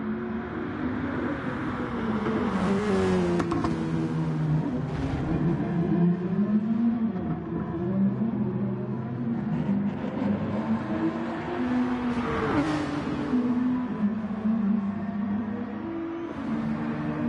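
Race cars lapping the Dragon Trail circuit in Gran Turismo Sport, a steady engine drone that rises and falls with revs and gear changes, heard continuously at moderate volume with no talk.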